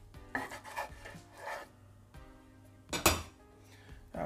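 A knife dices eggplant into cubes on a cutting board in a kitchen, with several soft rasping strokes and one sharper knock against the board, close and fairly quiet, no talk.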